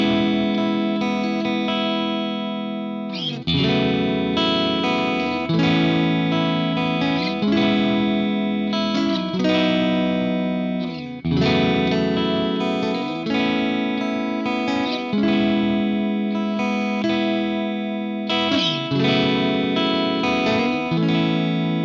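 An electric guitar runs through a raw Orange Rockerverb amp simulation with no effects, playing sustained chords and riffs in a repeating rhythm, loud and close, with a bright, slightly driven tone.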